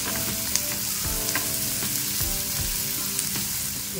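Vegetables stirred and sautéed in a pan for corn chaat, a soft steady sizzle broken by scraping spoon strokes and light knocks, close but fairly quiet, no one speaking.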